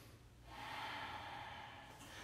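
Ujjayi yoga breath, a single long, slow inhalation with a soft throaty rasp, close and quiet, rising after a brief pause and sustained to the end.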